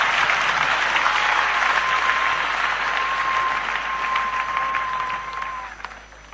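A church congregation claps and cheers together in sustained, loud applause for Jesus Christ, a dense crowd sound that holds steady before thinning out near the end.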